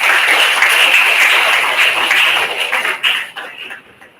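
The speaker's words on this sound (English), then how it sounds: "So let us give a round of applause." A hall audience at a district-level English elocution competition claps in a sustained burst. The crisp, dense applause thins out and trails off into scattered final claps near the end.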